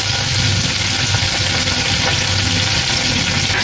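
Chopped coriander hitting garlic frying in hot oil in a pan, heard as a loud, continuous sizzle and crackle that stays even throughout, with no voices.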